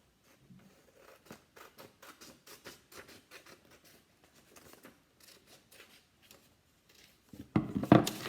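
Scissors snip a folded paper triangle in a run of quick, close, crisp cuts in a steady rhythm, ending in a louder burst of rustling paper.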